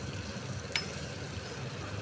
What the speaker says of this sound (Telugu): ఆయిల్లో ఈ విధంగా ఫ్రై చేసుకుంటున్నాం అన్నమాట.